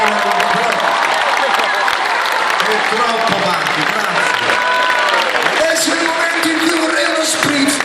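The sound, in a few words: crowd applauding at a live concert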